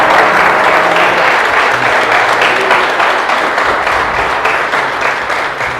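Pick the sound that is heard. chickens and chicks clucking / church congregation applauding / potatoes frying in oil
church congregation applauding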